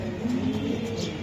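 Racing pigeons being sold, a light-coloured cock among them, coo softly and steadily at close range, a low continuous murmur with no talk over it.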